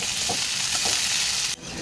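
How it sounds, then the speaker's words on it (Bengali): Steady, loud sizzling of onions frying in a hot pan, with faint stirring scrapes, cutting off abruptly near the end. "পেঁয়াজগুলো আমি এর সঙ্গে ভেজে নেব"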